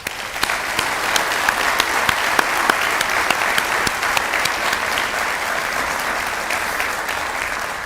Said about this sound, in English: Let's please show all these great businesses how much we appreciate them with a round of applause